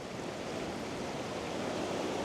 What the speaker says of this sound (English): In the river here, there's a bunch of rocks that have quite a bit more vigorous water activity around them.